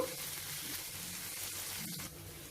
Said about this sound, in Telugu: చూడండి ఈ బెండకాయ ముక్కలు ఈ మాత్రం వేగితే సరిపోతుంది.